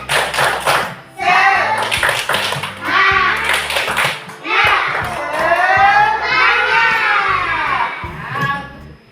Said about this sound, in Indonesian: Kita tepuk semangat. 1, 2, 3. Tepuk semangat.